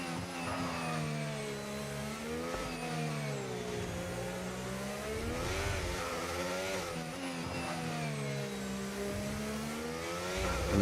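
A Mercedes race car engine in a racing video game drones through a lap at Mexico, its pitch repeatedly rising and falling through gear changes and corners, steady and moderately loud, with no talking.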